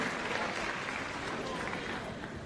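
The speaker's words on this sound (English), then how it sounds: "Big round of applause, fantastic." Audience applause at a Crufts 2018 Good Citizen Dog Scheme display, a dense, steady clapping wash with crowd murmur throughout, fairly distant and even in level.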